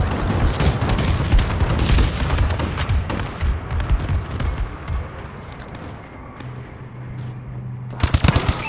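Explosions and heavy gunfire from a friendly bombing run in Call of Duty: Advanced Warfare multiplayer, a dense, sustained barrage of booms and rapid shots rolling on for several seconds, easing slightly before a sharp burst of blasts near the end.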